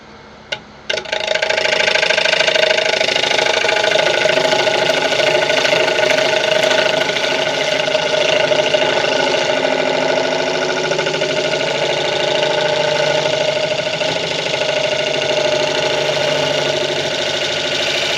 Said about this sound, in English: The knots are kicking the gouge a little bit.